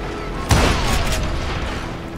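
TNT blows up in the Western shooter Call of Juarez: Gunslinger: one heavy, close boom with a sharp onset, then a long rumbling, debris-filled decay that trails off over the next second and a half.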